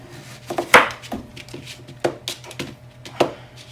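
Zucchini being finely chopped with a knife on a board, a series of crisp, irregular close-up chops with short pauses between them.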